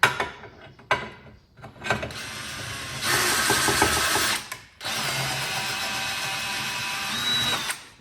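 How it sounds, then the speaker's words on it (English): A tap is run back through threaded holes in a turbo log manifold, giving close mechanical ratcheting and grinding in bursts, including two long sustained stretches with brief gaps between. "Run the tap back through them because they're not playing ball."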